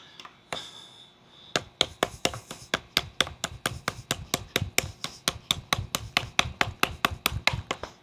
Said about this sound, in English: If you had to come in and chop something a little thicker, green stick wise.